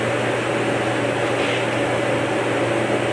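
A Felder Profil 45 shaper spins at 6,000 RPM while cutting walnut boards, making a steady, loud, hissing mechanical roar that holds unchanged throughout.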